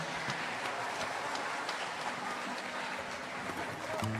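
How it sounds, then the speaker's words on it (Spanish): An audience at a live Ayacucho music night applauds a female singer, a steady, moderately distant clapping that holds evenly throughout, with faint voices mixed in. "un aplauso para ella"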